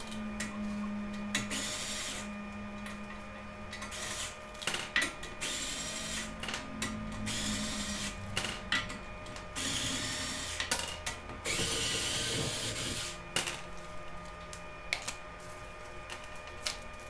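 Mechanical ratcheting and power-tool whirring while a car wheel is taken off, with bursts of clicking wrench action and a steady motor whine in the background, no voices.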